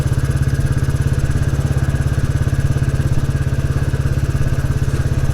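A 1954-design Royal Enfield Bullet 350 single-cylinder motorcycle thumps steadily while riding, its loud, rapid, even exhaust pulse running continuously with a clattery mechanical edge and no voices.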